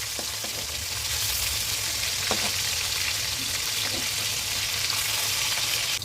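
Pieces of hilsa fish sizzling in hot mustard oil, a dense, even crackle heard up close, broken by a few light knocks as the fish is moved in the pan.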